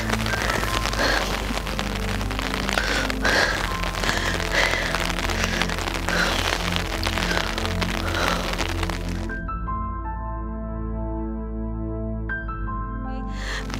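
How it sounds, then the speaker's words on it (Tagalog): Heavy rain pours down steadily near Sendai Airport after the March 2011 Tohoku earthquake and tsunami, a dense, loud hiss with crackling drops, giving way after about nine seconds to other sounds. "Medyo lumakas ang ulan"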